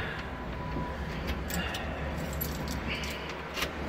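Keys jangle close by while a front door is unlocked at a newly settled house, a steady metallic rattling and clinking that runs through the whole short stretch with faint background noise and no clear talk.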